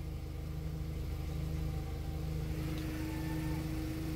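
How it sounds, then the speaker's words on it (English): A Volkswagen car engine idles with a steady, low, even rumble, close by and unbroken from start to finish. "It's not idling nearly as roughly as it was in the past."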